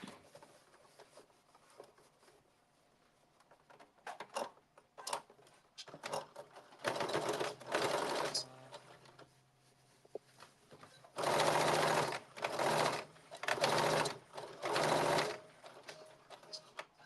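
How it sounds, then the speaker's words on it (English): A sewing machine stitches a long blazer seam in several loud, buzzing runs of a few seconds each, separated by short pauses and faint handling noises. "We're gonna sew this down on this side."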